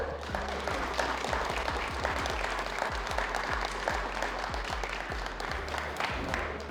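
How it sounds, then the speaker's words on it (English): A large crowd applauds steadily throughout, dense sustained clapping at a consistent loud level with no pauses. "let's give a big round of applause for the legendary Mr. Sol."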